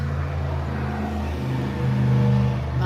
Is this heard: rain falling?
no